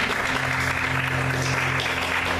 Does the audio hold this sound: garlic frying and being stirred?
no